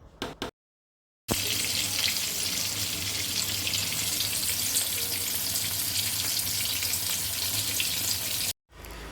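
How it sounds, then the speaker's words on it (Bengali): Eggplant slices frying in hot oil in a pan, a loud, even, hissing sizzle that starts abruptly after a brief silence and runs steadily before cutting off near the end. "এপিট ওপিট করে ভালোভাবে লাল লাল করে ভেজে নেব বেগুন ভাজার সময় কিন্তু খেয়াল রাখতে হবে যে বেগুনগুলো যেন বেশি পুড়ে না যায়"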